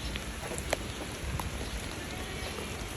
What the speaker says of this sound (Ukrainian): дорибачилась, що почався дощ